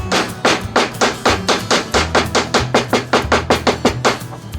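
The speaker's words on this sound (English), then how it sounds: "I always just take a socket, tap it in there" A socket taps a seal into a 1977 15 hp Evinrude outboard motor, producing about twenty quick, evenly spaced metallic knocks in a steady rhythm, close and fairly loud.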